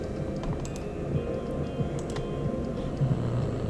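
Quick keystrokes on a computer keyboard, soft irregular clicks spread across a few seconds under a steady background hum.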